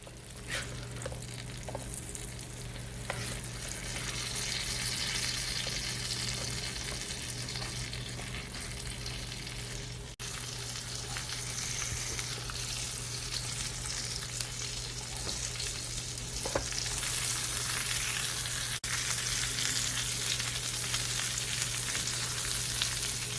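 Steak fries in butter on a hot griddle, giving a steady, close, continuous sizzle that holds at an even level throughout with no voices.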